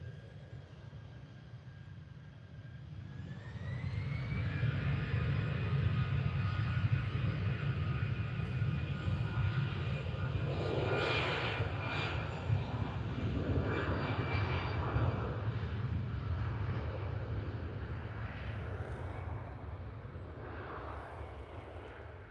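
An airliner takes off down the runway at Liverpool Airport, its engines spooling up after a few seconds into a loud, steady roar that holds as the aircraft rolls and climbs away.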